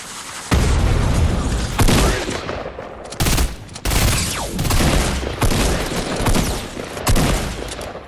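Rapid shotgun blasts and heavy gunfire in a video game firefight, several loud broadband bursts in quick succession with brief gaps between volleys, close and dominant.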